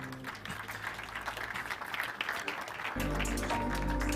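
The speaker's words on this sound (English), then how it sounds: "Round of applause for Tech-ish." Audience clapping at a 5G mobile network launch event in Kenya, a soft, distant smattering of applause over a hall's ambience, with a low musical drone swelling in toward the end.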